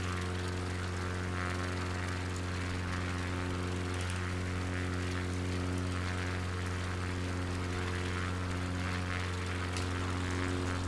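A small propeller plane flying over North Queensland drones steadily throughout, a loud continuous engine hum with strong low harmonics and cabin noise, no talk.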